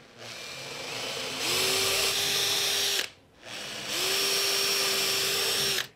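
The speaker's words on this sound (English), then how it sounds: "So I'm just going to pre-drill a 5mm hole." A power drill pre-drills 5mm holes while attic stairs are installed, two bursts of whining motor that spin up, run steadily for about one and a half to two seconds, then stop, with a brief pause between them.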